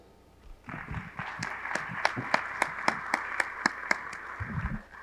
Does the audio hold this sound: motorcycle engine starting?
no